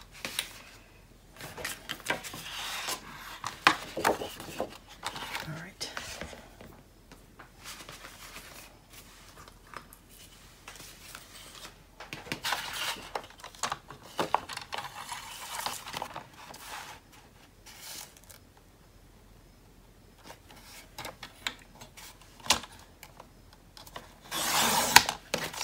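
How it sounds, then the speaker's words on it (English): A paper cutter trimming cardstock for a scrapbooking folio, producing scattered bursts of scraping, sliding blade strokes and rubbing, with quiet pauses between cuts and a sharper final slice. "I'm going to use this cutter because I can't cut 5 3/4 accurately on my big one."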